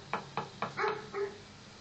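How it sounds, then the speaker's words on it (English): Dogs bark from a house in Mamaroneck, New York: three or four sharp, evenly spaced barks followed by two longer yelping calls, moderately distant and with no talk over them. "I hear some dogs."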